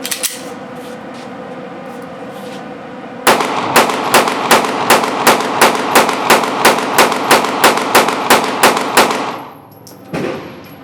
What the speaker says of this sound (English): Throwing a mag in, send some rounds downrange.